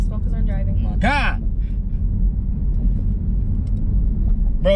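Steady low road rumble inside a moving car, continuous and fairly loud, with a brief rising whine-like voice sound near the start and faint voices in the cabin.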